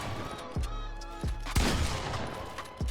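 Gunfire hits a target in a building-and-shooting video game during combat practice: four punchy shots ring out at roughly even intervals over a steady background hum.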